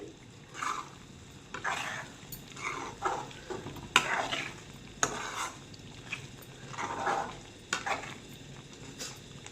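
A spoon stirs coriander into a stuffed brinjal curry frying in a pan, giving repeated scraping strokes in an uneven rhythm over a soft sizzle, with occasional light knocks against the pan.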